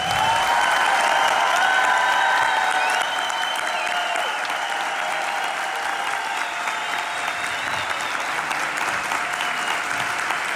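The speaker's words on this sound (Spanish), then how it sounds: "que le manden un gran aplauso" Sustained audience applause at a festival, loud and dense throughout, easing slightly after the first few seconds while continuing steadily with some faint crowd cheering mixed in.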